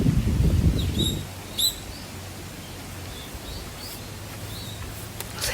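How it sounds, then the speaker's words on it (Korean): Wild birds chirp near a park entrance on Jeju Island, a few short, high, thin calls scattered through quiet outdoor air after a low rumble at the start. "새가 있네요."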